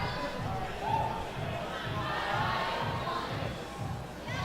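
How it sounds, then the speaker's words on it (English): Crowd at a climbing national championship semifinal cheering and clapping in a steady, sustained roar, with a rhythmic pulse of chanting or clapping running through, fairly close and continuous. "Crowd really getting behind Kai Leitner here"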